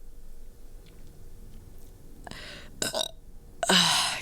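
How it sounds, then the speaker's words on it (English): Several burps from a person, short and close, with a quiet gap between them and the loudest one at the end; no talk in between. "Excuse me, I need to burp."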